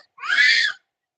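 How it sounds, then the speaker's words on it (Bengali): A single short, high-pitched bird call rises and fades in quiet surroundings, lasting under a second. "কেমন ডাকছে পাখিতে কেমন ডাকছে"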